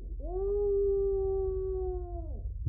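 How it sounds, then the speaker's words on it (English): A dog at the back door in a horror video game gives one clear, sustained, drawn-out howling whine that rises, holds steady and then tails off, heard alone against a quiet background. "I think my dog's trying to get into the house."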